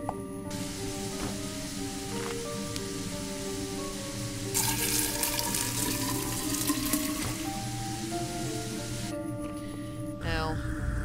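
Water runs steadily from a tap in the video game Fran Bow, a continuous hiss over the game's background music that swells louder for a few seconds midway.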